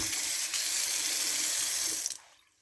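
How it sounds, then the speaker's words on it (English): A new kitchen sink sprayer runs water in a strong, close hiss for about two seconds, then shuts off abruptly into near silence. "Got the sprayer working fine."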